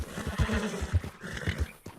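A horse in a video game whinnies and snorts amid a steady run of hoof clip-clops, fairly faint and close, with no talk.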